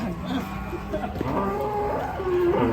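Cattle mooing in long, low drawn-out calls, fairly close, while being unloaded from a truck, with steady background noise throughout.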